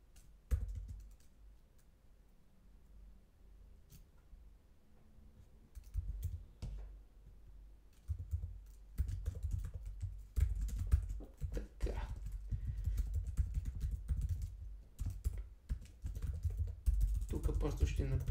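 Computer keyboard typing during JavaScript coding work, with irregular bursts of soft key clicks that grow denser and louder in the second half; no speech.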